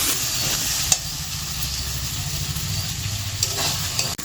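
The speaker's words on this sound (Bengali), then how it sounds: "আদা রসুন আর পেঁয়াজ একসাথে আরো কিছুক্ষণ একটু ভেজে নেব।" Ginger, garlic and onion frying together in a pan for a mutton curry give off a steady, close sizzle and hiss, broken by a couple of sharp clinks of a spoon against the pan.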